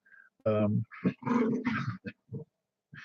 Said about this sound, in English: I got two dogs having a playful fight here behind me. Probably hear them.